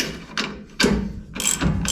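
A ratchet wrench clicks in three quick bursts, up close, while loosening the track bar on a Jeep Gladiator.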